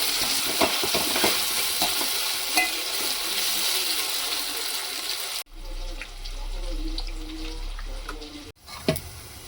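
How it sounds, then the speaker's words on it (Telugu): Ginger paste stirred and fried in oil in a pan while cooking a simple bachelor-style chicken curry, giving a steady sizzle with scraping stir strokes throughout, a brief pause near the end, and no talk. "కొద్దిగా అల్లం పేస్ట్ వేసుకొని అల్లం పేస్ట్ పచ్చి వాసన పోయేదాకా కలిపెట్టుకోవాలి"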